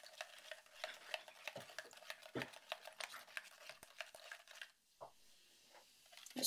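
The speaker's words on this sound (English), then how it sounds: "Stir a little more here." A copper carbonate mixture is stirred in a container, with a quick series of small clinks and scrapes of the utensil against the sides, faint and close, pausing near the end before a last few taps.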